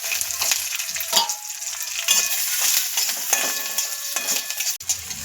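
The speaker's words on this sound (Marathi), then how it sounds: "लसूण व्यवस्थित परतून घ्यायचं आहे चांगला।" Garlic frying in a pan with cumin and coriander seeds, a loud, close, continuous sizzle broken by scraping stirs and the occasional knock of a utensil, with no talk.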